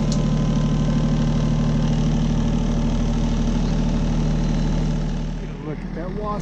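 A small 20 hp tractor engine idles steadily with a low, chugging drone throughout, fading slightly near the end as faint chirps or voices appear.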